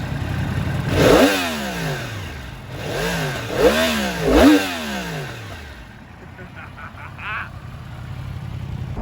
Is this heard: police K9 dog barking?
no